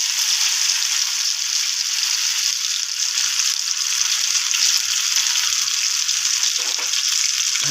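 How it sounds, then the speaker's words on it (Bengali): Poha chila fries slowly in oil in a pan, a steady bright sizzle of bubbling oil that stays even and close throughout with no voices. "আস্তে আস্তে ভাজা হোক"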